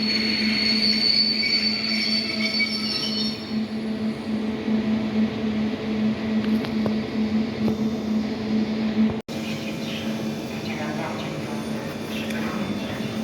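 An EN57 electric multiple unit train pulls away with a steady motor hum and high whine, wheels screeching and clattering loudly nearby as it gathers speed.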